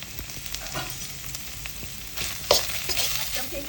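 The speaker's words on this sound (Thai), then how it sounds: "เอาเครื่องแกงลงผัดพอหอมค่ะ" Thai curry paste stir-fries in a little oil in a pan over moderate heat for a pork bone and vegetable curry, a steady close sizzle with occasional scraping stirs and no talking.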